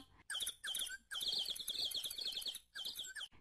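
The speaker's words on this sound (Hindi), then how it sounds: "पक्षियों के बोलने की ध्वनिया" Small birds chirp and tweet in quick, bright bursts, several calls overlapping in lively rapid strings with short pauses between, close and clear with no voices.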